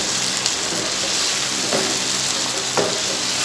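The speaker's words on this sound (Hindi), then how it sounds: "अब हम इसमें चिकन डालकर इसे मिक्स कर लेंगे।" Chicken is stirred into a frying tomato and onion masala, giving a loud, continuous sizzle with a couple of soft scraping stirs close by and no voices.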